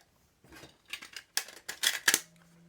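A MiniDisc pushed into a Panasonic SJ-MJ70 portable player: a series of faint plastic clicks and small mechanical snaps building over two seconds, ending in a quiet low hum.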